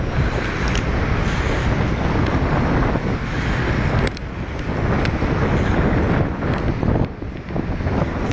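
Strong wind buffets the microphone on a city street, a loud continuous roaring rush with gusty swells and no voices.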